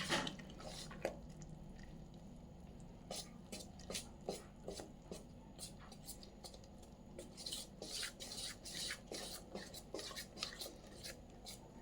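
Chocolate cake batter is mixed with butter and milk, giving close, quiet repeated scraping and wet slapping strokes of a spoon against a bowl in an uneven steady rhythm.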